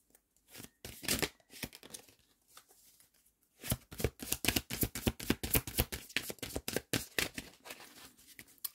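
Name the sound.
tarot cards being shuffled and drawn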